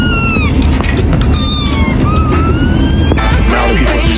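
A cat meows loudly and repeatedly in rising, wavering cries close by, over a steady low rumble like traffic, with a sharp noise near the end.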